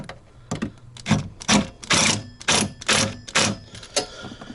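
Screws driven into RV wall studs while mounting a power converter in a 2022 Rockwood fifth wheel, a close series of short, loud mechanical bursts from a driver, about eight in a row with brief pauses between.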